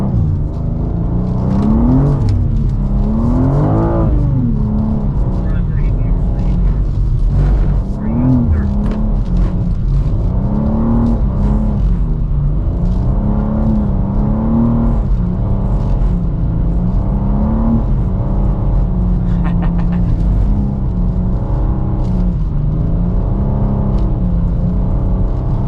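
A 2023 BMW M2 with an 8-speed automatic drifting on a wet skidpad: a loud, continuous engine note rising and falling as the throttle is worked, heard close from inside the car.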